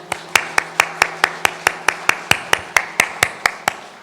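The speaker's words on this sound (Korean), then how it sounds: "하나님께 영광 박수 올려드리겠습니다." Steady rhythmic clapping by a church congregation, sharp regular claps at an even quick tempo, close and fairly loud, in unison.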